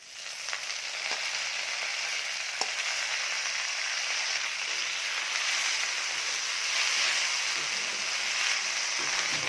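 Mint leaves sizzling in hot oil with tamarind, a steady bright hiss of frying that holds evenly close by, with a few faint stirring clicks and no speech.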